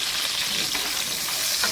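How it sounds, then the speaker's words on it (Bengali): Potatoes frying in hot mustard oil in a kadai, a steady close sizzle with bubbling crackle and occasional stirring scrapes throughout, no voices. "প্রথমে আমি আলুগুলো ভেজে নেব"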